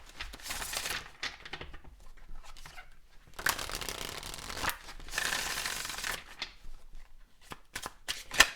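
Tarot cards being shuffled by hand, close and fairly quiet, in several riffling and sliding bursts separated by short pauses, with no talking.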